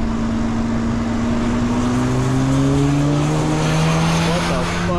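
An Infiniti G35 accelerates hard, its engine note rising steadily and loudly from up close inside the car, with a continuous rising drone throughout and the whine climbing in pitch.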